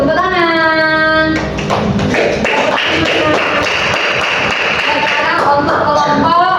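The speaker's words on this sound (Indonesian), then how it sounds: "Tepuk tangan untuk kelompok 3." Classroom applause for a student group, a steady patter of many hands clapping that swells after a voice speaks at the start and carries on loud and close to the end.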